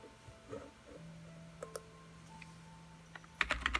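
A computer keyboard is typed on quietly and nearby, with sparse single clicks early on and then a quick burst of keystrokes near the end.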